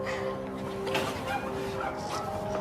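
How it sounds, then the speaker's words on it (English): Pit bull dog making short yips and whimpering barks amid a busy background hum, close by, with a few brief vocal bursts over steady ambient noise. "It's a pit bull dog."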